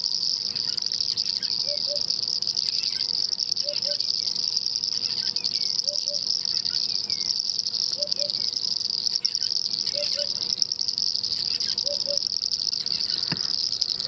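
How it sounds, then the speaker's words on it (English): Soft double-note calls of an African hoopoe repeat about every two seconds over a constant, shrill trilling chorus of frogs at sunrise on a South African safari, steady throughout. "Bird calls and the frog calls."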